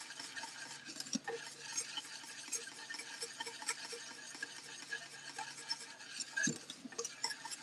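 Whisking a coconut sugar banana pudding in a pot over lowered heat, with a steady scraping, stirring rhythm and faint clinks of the whisk against the pan, close and continuous.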